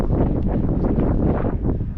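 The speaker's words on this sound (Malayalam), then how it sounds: "ഇപ്പോൾ കാറ്റുണ്ട്" A steady gust of wind at Kalippara buffets the microphone with a low, rumbling roar that stays loud and constant throughout.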